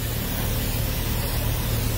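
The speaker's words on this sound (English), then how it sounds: "I'm going to spray some right on top of this fresh grease where I just greased my truck." GreaseABull lubricant sprays from a can onto freshly greased truck fifth wheel, a steady, close hiss that runs unbroken for the full two seconds with no talking.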